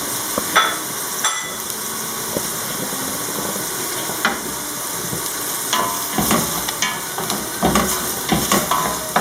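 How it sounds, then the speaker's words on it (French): Diced, peeled tomato is tipped into a hot pan and stirred, giving a steady close sizzle broken by scraping spoon strokes and soft clatters, with no voices. "là je vais rajouter une tomate coupée en petits morceaux"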